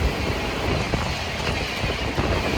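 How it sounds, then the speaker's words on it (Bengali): The Down New Jalpaiguri–Howrah Shatabdi superfast express rushes past at speed, heard from aboard the moving Kaziranga Express as a continuous, fairly loud rumble and wind-swept rattle of rolling coaches, without speech. "সামনে থেকে দ্রুতগতিতে আসছে ডাউন নিউ জলপাইগুড়ি হাওড়া শতাব্দী সুপারফাস্ট এক্সপ্রেস"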